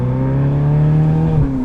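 A car engine held at high revs in a sharp throttle blip, then dropping abruptly in pitch, loud and close with a rough buzzing tone.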